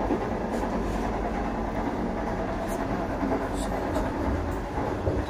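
Steady low rumble and rolling rail noise inside a moving Vande Bharat Express passenger train between Thane and Shirdi, continuous and moderately loud throughout, with no clear speech.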